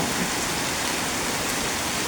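Heavy rain pours down in a storm with wind, a dense, steady, loud hiss of drops hitting surfaces that stays constant throughout with no voices.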